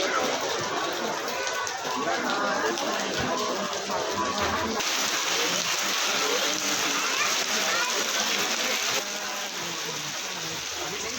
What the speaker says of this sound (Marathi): पाऊस पण लागला इथे जोरात.